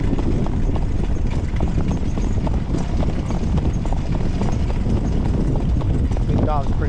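Horses work on a well-kept training track in winter, with steady loud hoofbeats in continuous clip-clop over wind and background noise, a voice speaking over it.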